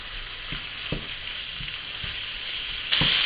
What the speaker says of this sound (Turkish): Kıymayı güzelce kavuralım.